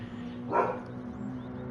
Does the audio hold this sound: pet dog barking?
yes